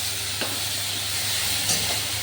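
Garlic is added to onions already frying in a pan, and the result is a steady moderate sizzle with a couple of brief scraping stir sounds.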